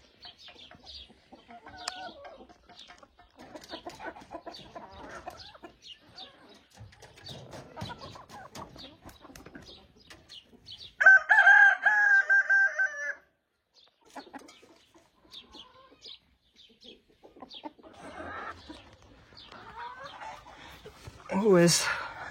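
Village chickens and turkeys forage on a manure heap, giving scattered soft clucks and calls throughout, a louder run of squawking calls midway and another near the end, while a person talks over them.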